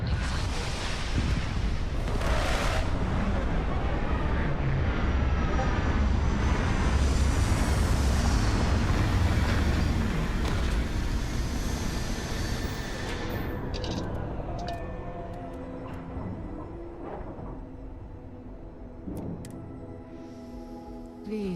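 Spaceship landing in the Starfield video game: a deep, loud roaring rumble of engines that swells and then gradually subsides into quieter mechanical tones and clanks as the craft settles.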